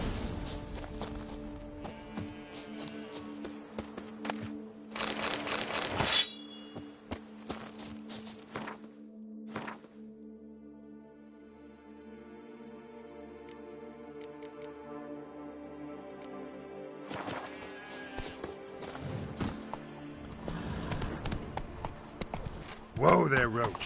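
Hoofbeats of the horse Roach in a video game, a steady clip-clop of hooves at a walk or gallop mixed with game music and ambient sound, with voices talking over parts of it.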